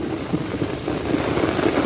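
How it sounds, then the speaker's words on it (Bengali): Heavy rain pours steadily over a village on a rainy fishing day, a dense continuous hiss with no distinct thunderclap standing out, fairly close and unbroken throughout. "বিশাল বৃষ্টি বজ্রপাত"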